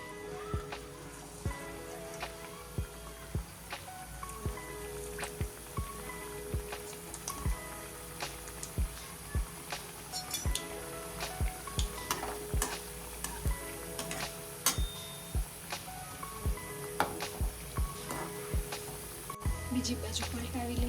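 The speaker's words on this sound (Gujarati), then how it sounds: "તો ચાલો તેને તળી લઈએ. તેલ આવી ગયું છે. ચાલો સમોસાને તળી લઈએ." Samosas deep-frying in hot oil give a close, steady crackle of dense popping and bubbling that runs throughout without pause.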